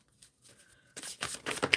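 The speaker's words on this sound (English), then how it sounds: "Shuffling for Firmina" Quick papery riffling and soft slaps of tarot cards being shuffled, close by and fairly quiet, in a couple of short bursts.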